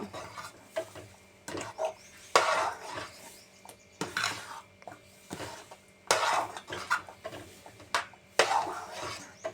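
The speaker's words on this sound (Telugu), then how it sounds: "ఆయిల్ వేసుకొని కలుపుకుందాం." Upma is stirred in an oiled pan with potatoes, a spoon scraping and clanking against the metal in irregular strokes with short pauses between, fairly close and moderately loud.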